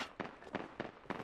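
A frag grenade blast in the Apex Legends video game, heard as four quick sharp bursts spaced about a third of a second apart, moderately faint.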